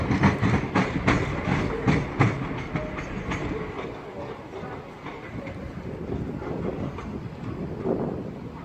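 A passenger train pulls away from Lewisham toward Charing Cross, rattling loudly over a busy rail junction with rhythmic clickety-clack wheel impacts that stay close and steady throughout, with some wind noise on the microphone.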